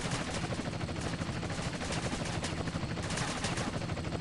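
Dense, continuous gunfire rages through a police shootout with a helicopter in GTA San Andreas on mobile, shots blurring into an unbroken loud roar.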